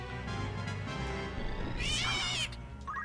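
A cat meows in the video game Final Fantasy Tactics: The Ivalice Chronicles, with a loud rising-and-falling cry over busy game music and effects. A shorter second meow follows near the end.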